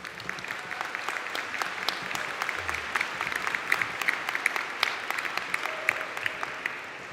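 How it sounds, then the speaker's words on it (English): Audience applause at a Midlands university conferring ceremony for Faculty of Science and Health graduates, a steady, dense patter of many hands clapping, moderately distant and sustained throughout, with no speech over it. "give a warm round of applause to our graduates"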